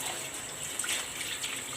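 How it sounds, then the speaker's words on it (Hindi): Water poured into a cooking pot for chicken yakhni pulao, a soft steady splashing stream that keeps going throughout, close but fairly quiet, with no talk. "1 लीटर के करीब हम इसमें पानी डाल देंगे"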